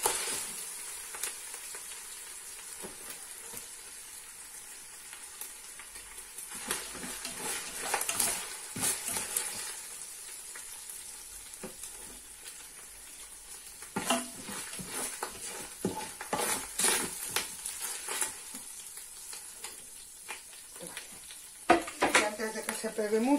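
Minced meat sizzles in hot oil in a pan, a steady moderate frying hiss broken by stirring scrapes and light utensil clatter that grow busier toward the end.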